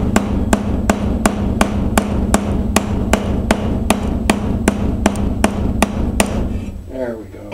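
Hammer blows on a metal motorcycle frame during an electric conversion build of a Honda CBR600, about twenty sharp, evenly spaced, loud close strikes in a steady rhythm, ending with a brief clatter.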